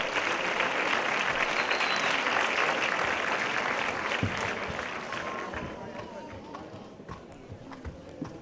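An audience claps loudly and steadily at a sports awards gala, the dense applause thinning and fading into scattered claps toward the end.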